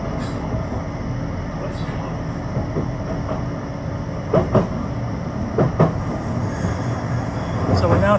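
A tram rumbles steadily along its tracks between Fleetwood and Starr Gate through Thornton, with rhythmic clacks over rail joints, while a recorded announcement voice speaks over the running noise.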